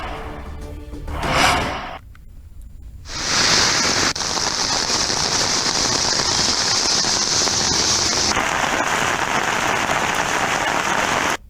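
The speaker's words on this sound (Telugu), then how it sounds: "ఉదయం నగరంలోని పలు చోట్ల కుండపోతగా వర్షం కురిసింది" Heavy rain pours down across Hyderabad on a morning of flooded streets, a dense steady roar of downpour hammering surfaces that stays loud from start to finish after a brief quieter gap near the beginning.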